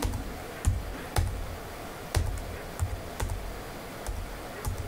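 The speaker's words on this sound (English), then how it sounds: "I'm just hitting the digit zero and using arrow keys to scroll down to the next" Computer keyboard keys, including the zero and arrow keys, tapped one at a time to move between spreadsheet cells, a handful of sharp close clicks in an irregular rhythm with no talk.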